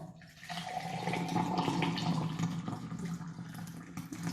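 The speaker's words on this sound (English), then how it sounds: "measure out 300 ml of boiling water" Boiling water poured from a kettle into a measuring jug to 300 ml for a tiramisu, a steady close splashing pour that runs continuously for several seconds.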